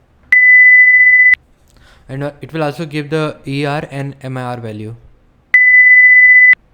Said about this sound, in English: It will give the beep sound.